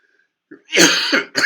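A single harsh cough bursts out close by after a faint breath, followed quickly by a second shorter cough.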